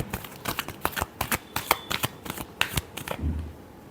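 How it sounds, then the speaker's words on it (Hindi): Tarot cards being shuffled by hand in a series of quick riffling bursts, close and clear, with a soft thud near the end. "Last shuffle."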